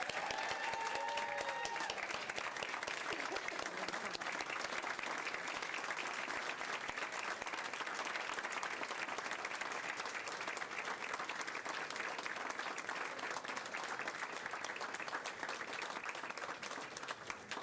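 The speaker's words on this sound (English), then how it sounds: "please give them all a final round of applause" An audience at a school board meeting claps continuously for finalists, a sustained, even roar of many hands, with a brief voice audible at the very start.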